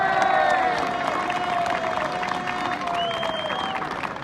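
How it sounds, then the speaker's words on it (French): Crowd at an outdoor freedom protest march in Brest breaks into sustained applause with scattered cheers, while a tonal whistle or horn-like sound runs over the clapping throughout. "On l'applaudit!"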